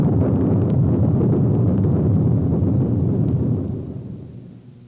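Thunder sound effect for a stage production: a sustained low, dense rumble rolling at steady loudness for several seconds, then fading away toward the end.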